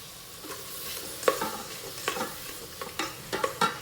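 Fresh green peas are stirred into softened onions frying in a pan for rice pulao, with soft sizzling under a few sharp scraping and clinking stirs against the pan.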